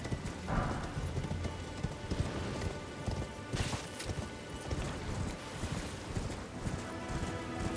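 Horse hooves clip-clop steadily and rapidly in the fantasy action game Elden Ring, in a continuous rhythmic gallop mixed with dense game ambience.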